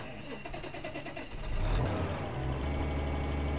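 A John Deere 9630 tractor in Farming Simulator 2013 cranks and starts, its engine swelling to a steady, deep diesel rumble that holds through the end, loud and close.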